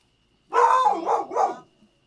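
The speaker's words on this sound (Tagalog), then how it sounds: "sorry, maingay ang aso naman" A dog gives a quick run of about three barks in close succession, fairly near, and then it goes quiet.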